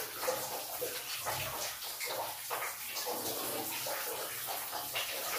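Water running and splashing into a hotel bathtub at Pokhara Grande Hotel, a steady, close broadband rush that continues without a break.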